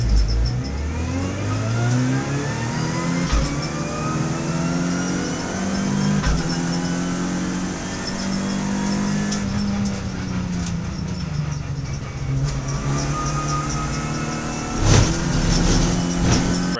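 Renault Clio Cup race cars at the Marina circuit, engines droning loud and continuous with rising and falling pitch as the pack accelerates, close and steady throughout.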